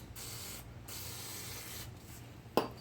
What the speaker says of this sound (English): So the first part is just going to spray it down.